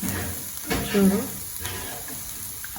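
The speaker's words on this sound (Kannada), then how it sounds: "ಅರಶಿನ ಪಾಡು, ತೆಂಗಿನಕಾಯಿನ ಚೆನ್ನಾಗಿ ಫ್ರೈ ಮಾಡಬೇಕು." Coconut and turmeric fry in a pan for a kudla-style chicken curry, with no oil added. A soft, steady sizzle carries a few scraping stirs, and faint voices are heard in the background.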